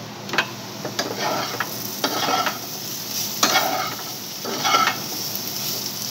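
Potatoes with cumin are stirred in a pan, giving repeated loud scraping strokes of a spatula roughly every second over a low, steady sizzle, with no voices.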